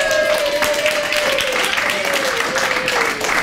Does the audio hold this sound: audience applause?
yes